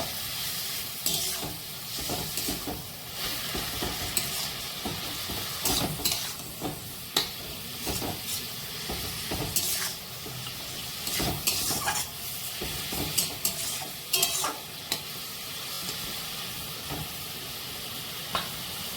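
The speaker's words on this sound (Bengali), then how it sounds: "একটু হলুদ দিয়ে দেবো। দিয়ে ভালো করে নাড়াচাড়া করে" Turmeric is stirred into kachki fish and spinach frying in a pan, giving a steady close sizzle broken by scraping stirs and occasional clinks of the utensil against the pan throughout.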